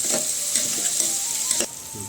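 Finely chopped carrots sizzle and hiss in a hot pan while sautéing for Ramadan nonbu kanji, with a few scraping stirs, before the frying quiets near the end.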